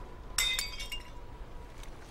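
In the Heavy Rain video game, an object is smashed, giving a quick run of bright, glassy clinks and cracks, four or so sharp hits close together over a low quiet background.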